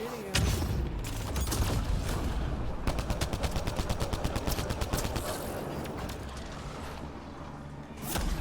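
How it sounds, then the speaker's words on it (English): Rapid turret gunfire in the sci-fi video game Mass Effect Andromeda, a dense burst of evenly spaced shots rattling for several seconds over a busy mechanical din, loud and close. "The turret started shooting him."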